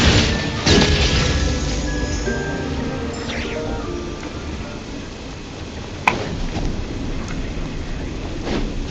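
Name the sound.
thunder in the video game Genshin Impact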